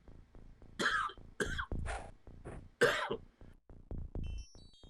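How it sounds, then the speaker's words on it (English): Repeated harsh coughing bursts from a person, several loud close coughs with short gaps between them, with no speech. "forgot the mute button for most of that disgusting cough"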